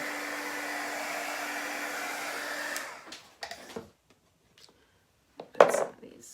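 A hair dryer runs steadily for about three seconds, drying a chalk paint craft project, then cuts off, leaving a few faint handling clicks and scrapes with a brief louder clatter near the end.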